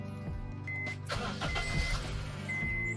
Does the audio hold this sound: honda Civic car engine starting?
yes